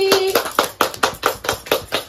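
Hand clapping in a steady, even rhythm, about eight sharp claps close by, with a brief sung or spoken tone at the start.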